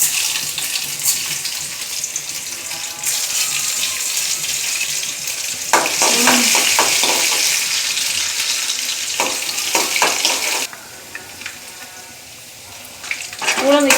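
Two dried red chillies and urad dal frying in hot oil for a radish thuvaiyal, a steady close hiss with bursts of crackle and a few utensil knocks, fading softer near the end.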